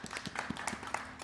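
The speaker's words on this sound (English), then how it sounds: "Guys, give yourself a round of applause." A brief burst of applause from students at the close of an all-levels jiu jitsu class, with uneven clapping from a small group heard nearby and moderately loud.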